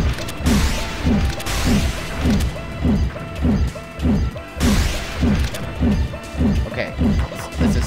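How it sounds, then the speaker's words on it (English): Repeated heavy footstep thuds in the video game Meteor, evenly paced at about two per second and loud over a busy game soundscape. "That noise of stepping is so annoying."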